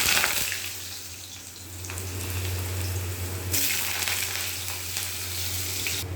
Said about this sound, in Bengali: তো চলো ফার্স্ট আমি আলুটাকে দিয়ে দেবো, আলুটাকে ভেজে নেব।